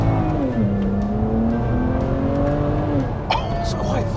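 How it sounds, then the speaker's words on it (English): A BMW 335i accelerating hard on the road, its engine note rising steadily through the revs, then a sharp gear change near the end, loud and close from inside, with a voice talking over it. "we got the 335 on the road to see if our fixes were finally allowing it to run at its proper power figure"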